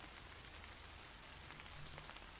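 Rain falling on the leaves of a tree, a dense, steady hiss of drops spread evenly and continuously, with no voices.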